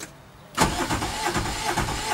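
An Aixam Mega Multitruck microcar engine cranks after a brief quiet moment, a loud, close, steady churning starter sound that runs on without the engine catching cleanly.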